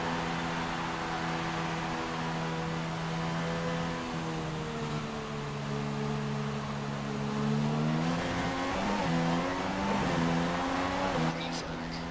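Formula One race cars in the F1 2016 racing video game, a steady droning engine whine with pitch shifts as a car accelerates and shifts gears, under a speaking voice.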